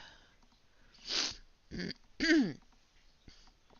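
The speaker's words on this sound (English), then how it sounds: "Goodness, I do apologize for the sniffles." A person sniffles and clears their throat in a quiet room, three short separate bursts of nasal and throaty sound spaced about half a second apart.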